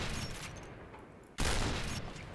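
Gunfire in the shooter game Point Blank aimed at breakable boxes: a steady stream of shots that fades, then a sudden loud burst of rapid fire, close and continuous, with no voices.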